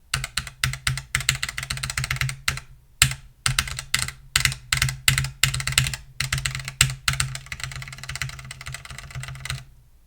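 Kailh V2 mechanical keyboard switches clicking in fast, irregular typing bursts with brief pauses, crisp and close with no voices.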